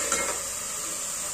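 Dry spices fry in hot oil for a cauliflower tempering, a steady close sizzle with a brief stir at the start and no voices.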